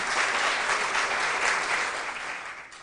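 Steady applause from a quiz-show audience for the contestants fills the space, a dense wash of clapping that fades slightly toward the end.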